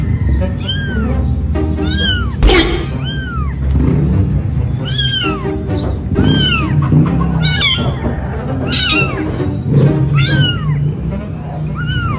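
Repeated meows from a kitten and a mother cat, rising and falling calls arriving every second or so across the span, close and fairly loud over a steady background murmur.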